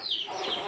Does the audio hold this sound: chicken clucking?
yes